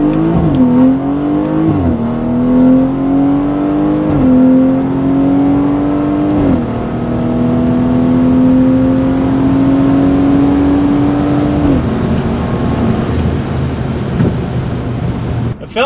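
A tuned BMW 340i with the B58 engine accelerates hard in a pull, the engine note rising steadily through several gears with brief dips at each shift, loud and close from inside the car.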